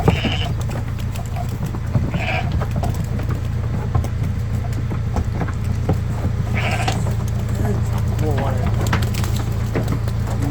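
Several sheep bleat intermittently over a steady low rumble and murmuring voices, the calls short and scattered across the scene at a livestock delivery.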